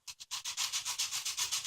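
Sandpaper rubbed by hand along the freshly cut edge of a wood plank, two short strokes and then about a dozen quick rhythmic scrubbing passes, close and dry, with no talking.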